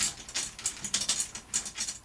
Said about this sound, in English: Then you'll take your hoop, you'll set your hoop on. And then you'll start finger tightening your screws.